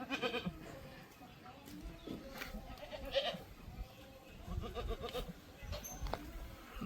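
Goat on a farm, a breeding doe being assessed for purchase, with faint intermittent bleats amid livestock noise and speech in the background.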